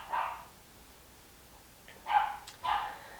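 Two puppies bark in short, sharp yips at moderate distance outdoors beside a potato garden bed, one bark early, then a pause and two quick barks close together near the end, with no talking.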